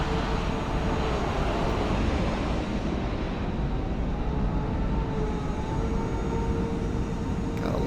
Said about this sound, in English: we got a lot of planes taxiing out this way